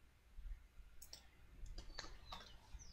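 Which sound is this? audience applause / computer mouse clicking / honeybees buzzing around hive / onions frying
computer mouse clicking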